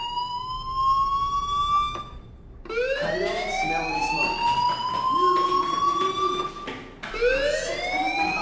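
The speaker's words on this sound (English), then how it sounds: "Hey, do you hear that fire alarm? That means you should be outside." A fire alarm in the video game Life Is Strange wails loudly, its siren-like tone sweeping upward in repeated rising cycles separated by short breaks, with no voices.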